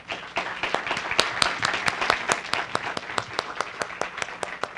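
Audience clapping for a speaker at a national criminology congress in a school hall, moderate steady applause with distinct individual claps, near and continuous.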